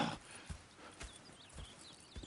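Horse hooves clip-clop in a slow, uneven rhythm in the video game Red Dead Redemption 2, fairly faint and a little distant, over a quiet background.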